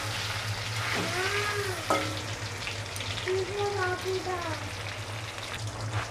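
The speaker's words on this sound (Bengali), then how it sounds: "একদমই হালকা করে ভেজে নিচ্ছি।" Padma hilsa fish fry lightly in mustard oil with a close, steady sizzle and faint stirring, broken by a few short wavering voice-like tones and a low background hum.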